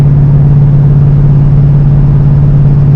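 A car engine pulling up a hill in high gear, a loud, steady low hum and drone running unbroken throughout with a faint underlying clatter.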